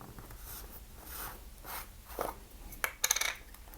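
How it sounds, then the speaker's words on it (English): Glass jar of copper sulfate being opened at a lab bench: soft scraping and twisting of the lid, then a few light clinks and rattles near the end, close and quiet. "So you'll open up the jar"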